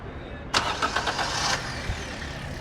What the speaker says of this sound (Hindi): अभी एक बार गाड़ी को स्टार्ट करके एसी ऑन करके चेक करते हैं।